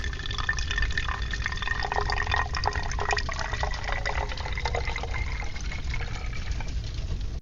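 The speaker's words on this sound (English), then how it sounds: "We've got the water pouring." Steady stream of water pouring and splashing, continuous and close, with bright dripping texture throughout and no voices.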